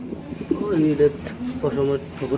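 Pigeons offered in pairs for sale coo in soft throaty warbling phrases close by, mingled with people talking.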